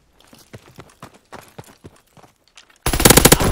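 A loud, rapid burst of machine-gun fire bursts in abruptly near the end of a WWII video game scene, following a stretch of quieter, irregular thuds and clicks.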